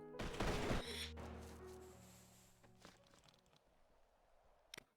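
A color guard fires a rifle volley at a memorial service: one sharp, loud crack that rings and fades, then a faint click and a brief clatter at the end.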